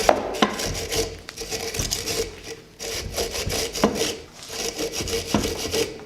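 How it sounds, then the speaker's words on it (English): A wire brush scrubbing slag off a piece of twisted steel, rapid rasping back-and-forth strokes in uneven bursts, close and fairly loud, with a few metallic knocks. "Now we're going to take our wire brush, remove all this slag."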